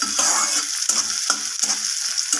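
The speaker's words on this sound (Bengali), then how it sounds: "পেঁয়াজটাকে আমি হালকা করে এভাবে ভেজে নেব" Chopped onion frying in a pan as the base for dal, with a steady close sizzle broken by repeated scraping stirs of a utensil against the pan, no voices.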